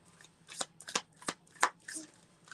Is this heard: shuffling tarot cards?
yes